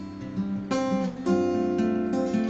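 Acoustic guitar picking a chord pattern, continuous fingerpicked notes with a few chord changes over a short stretch, close and moderately loud, no voice.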